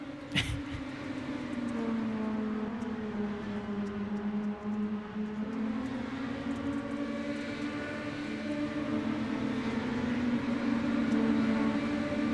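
Mini stock race cars in iRacing on the Bristol dirt track, their engines buzzing loud and continuous with rising and falling tones like small angry lawnmowers. A brief sharp click sounds near the start.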